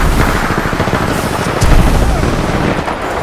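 Pistol shots fired in Titanfall 2 on the Drydock map, a dense run of sharp close cracks amid loud battle noise and other gunfire, with brief talk in the mix.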